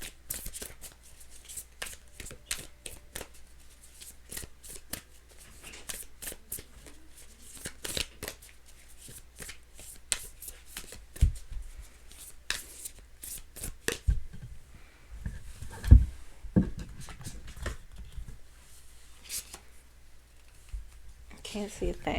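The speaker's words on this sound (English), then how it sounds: "These cards are hard to shuffle." A stiff deck of dark tarot cards is shuffled close up in rapid, uneven riffles and soft slaps, with brief quiet talk in between.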